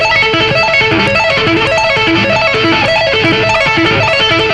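Rapid tapped electric guitar arpeggios ripple continuously at a steady, fast rhythm, bright and sustained, with no pauses.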